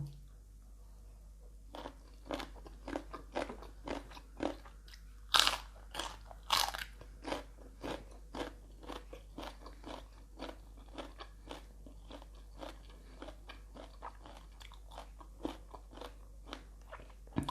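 Shallots are pounded in a mortar for Lao-style papaya salad, giving a long series of close, sharp crunching thumps at an uneven but steady rhythm, with a couple of louder strikes and quiet gaps between them.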